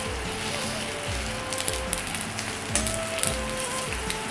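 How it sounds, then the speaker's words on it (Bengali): Momos frying in hot oil give off a steady, dense sizzle and crackle with scattered pops. It runs continuously at close range, and there is no talk over it. "আমাদের মোমো ফ্রাই করা কমপ্লিট।"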